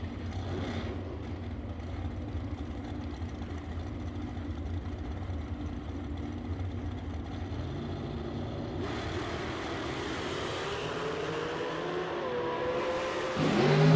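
Super Pro drag racing at the Summit Racing Equipment $75K Challenge, with a steady, loud engine roar that swells toward the end as dragsters build speed down the strip.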